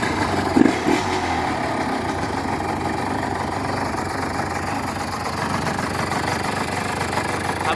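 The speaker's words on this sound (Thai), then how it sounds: "เครื่องเงียบนะฮะ เงียบกิ๊บเลย" A Yamaha TZR 150 motorcycle engine idles steadily, a quiet even mechanical hum throughout with a brief knock near the start and no talk.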